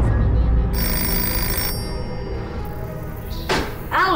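A telephone rings in a video game, with electronic bell-like tones repeating in short bursts against a dark ambient background, followed near the end by a brief thump and a warbling electronic tone.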